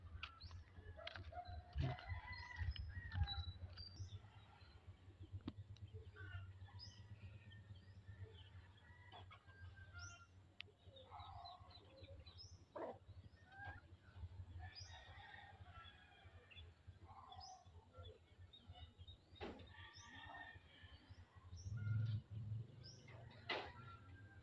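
Chickens and other farm birds cluck and call in a backyard setting, a busy mix of overlapping short calls and chirps at moderate distance, continuing throughout with quiet low rumble underneath.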